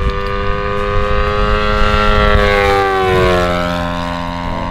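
Radio-controlled P-47 model plane with a Laser 100 four-stroke engine making a low pass, its steady harmonic engine drone loud and close, the pitch bending downward as it sweeps past.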